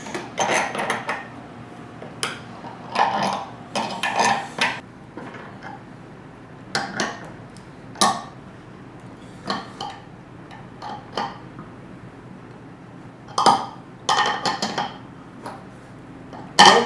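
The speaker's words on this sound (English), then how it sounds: "I got a wrench here, 7/16 wrench." Bolts tightened with a 7/16 wrench while building a custom mouse trap, giving quick metallic clicks and clinks in irregular bursts, close and moderately loud, with no voices.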